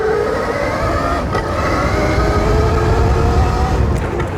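A BRZ Racoon Pro 84v 21kW electric bike accelerates hard along a loose, stony, dusty unmade road, with a steady rising motor whine and continuous rushing wind and gravel noise, loud and close throughout.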